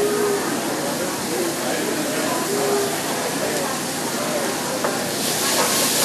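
Tomato hitting a hot pan of shrimp, shallots and garlic in a New Orleans-style dish, giving a steady, moderate sizzle and hiss that runs continuously, with someone talking over it.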